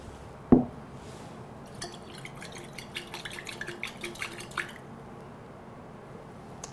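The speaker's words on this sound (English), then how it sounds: "Let me add water to it and see whether it will mix." Water poured into hydrogen chloride in a lab vessel, a sharp splash followed by a run of small dripping, bubbling liquid sounds that fade after a few seconds.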